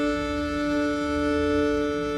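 Higher cello samples playing dry sustained drones, a steady layered chord of bright stacked tones holding evenly throughout, close and moderately quiet with no voices.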